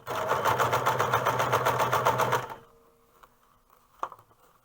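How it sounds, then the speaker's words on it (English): Sewing machine stitching along the turned edge of a single-layer hood runs in a fast, even mechanical rattle for about two and a half seconds, then stops, leaving quiet with a soft handling thump. "I sew right along the edge of where this is turned"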